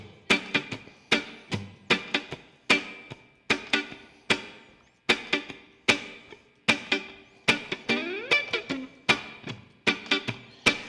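Reggae rhythm guitar played with a swung feel, sharp percussive chops and muted strums repeating in a steady, uneven lilting pattern, close and clear with no talking.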